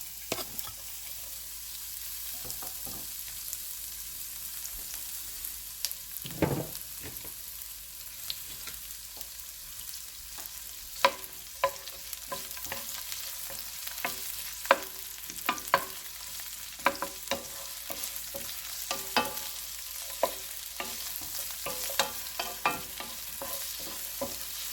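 Onions fry in hot ghee in a pan, giving a soft, continuous sizzle broken by scattered clicks and scrapes of stirring, fairly quiet and with no voices.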